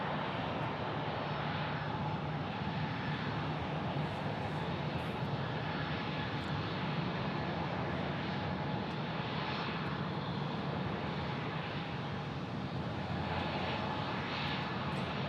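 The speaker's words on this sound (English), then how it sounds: "It looks like WestJet is sneaking out to Calgary there" A WestJet airliner departs Phoenix Sky Harbor airport, a steady distant jet engine roar that holds a broad, even rumble throughout with no voices.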